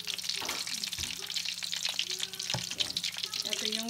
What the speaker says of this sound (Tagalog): Ito yung niluluto ni Love na prito